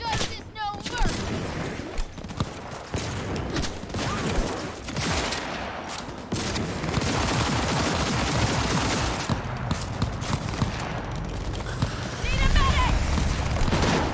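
Heavy gunfire and bursts of automatic fire rattle through a Cyberpunk 2077 firefight, with booming blasts and a grenade thrown amid the shooting, while a player talks over the combat.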